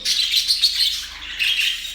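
Small caged birds chirp in quick, bright bursts close by, a few overlapping tweets with a brief pause in the middle.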